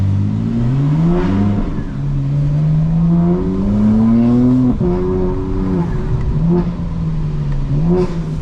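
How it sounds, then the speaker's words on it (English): A 2025 BMW M4 Competition engine revs and climbs through gears in city traffic, its pitch rising and dropping repeatedly, loud and close with a brief tire chirp. "Car sounds excellent, guys."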